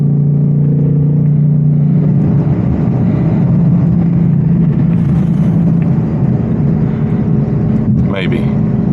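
An 810 hp RTR Ford Mustang GT accelerating hard in 4th gear, a loud, steady low engine roar that fills the cabin throughout, with a voice speaking over it.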